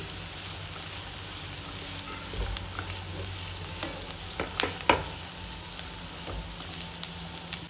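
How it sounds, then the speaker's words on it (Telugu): Onion, green chilli and carrot frying in a pan, a quiet continuous sizzle with occasional sharp clicks and taps of a spoon, no voices. "ఉల్లిపాయ వేగిన తర్వాత పచ్చిమిర్చి, క్యారెట్ వేసుకొని వేగనివ్వాలి"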